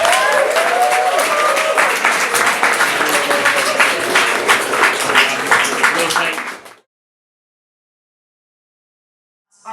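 An audience at a student union hustings gives a loud round of applause, dense clapping for about six seconds that then stops abruptly into silence.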